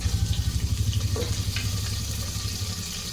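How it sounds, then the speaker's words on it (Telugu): Water hits a hot pan of chicken roast with coriander, setting off a loud, steady sizzle with a pulsing rhythm at first, close up and without talk. "వాటర్ అంతా ఇట్లా చేసి ఇందులోకి వేసేద్దాం"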